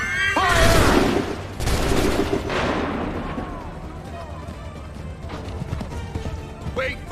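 Assassin's Creed III soldiers fire a musket volley: a loud crackling burst of massed shots opens, followed by further rolling gunfire bursts and battlefield din, with shouted voices over the fighting.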